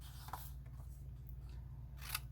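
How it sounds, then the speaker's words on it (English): Scissors snip the edges of a paper tote bag base, giving two faint, brief cuts over a steady low hum in a quiet room. "we are going to snip a couple of the edges"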